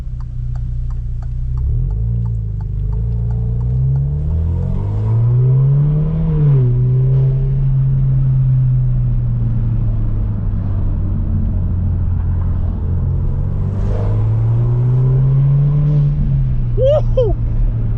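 An Alfa Romeo Giulia with a performance mod, driven in sport mode, drones steadily with its engine note rising and falling in pitch as it pulls and accelerates, a continuous close rumble throughout.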